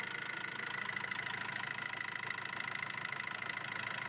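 A Tata Zest car engine idles steadily at close range, a continuous even rumble with a slight rhythmic knock throughout.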